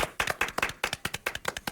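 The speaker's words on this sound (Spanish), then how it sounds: "Fuerte el aplauso" Brisk, steady clapping from a small group, the claps falling in a quick regular rhythm, fairly near and moderately loud.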